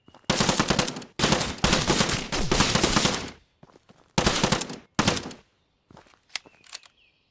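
Gunfire in Outbreak Island, loud and close: long rapid automatic bursts, then shorter bursts, then a few scattered single shots with pauses between, and no talking.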